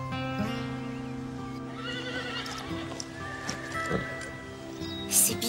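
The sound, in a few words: horse neighing, a show horse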